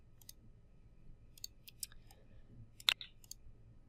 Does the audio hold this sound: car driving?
no